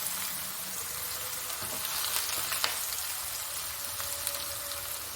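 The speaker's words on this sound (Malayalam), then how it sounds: "നമ്മൾ ആദ്യമേ പച്ചമുളക് ഇടുവാണ് വെളുത്തുള്ളി ഇടുവാണ് ഈ ചെറിയ ഉള്ളി ഇടുവാണ്" Green chillies, garlic and small shallots fry in hot coconut oil with a steady, even sizzle. The sound is faint and constant, with an occasional light pop and no talking.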